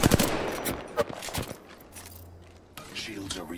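Gunfire hits the player in the Apex Legends video game: a quick burst of sharp cracks up front, then scattered shots and a low hum, with game voice lines mixed in.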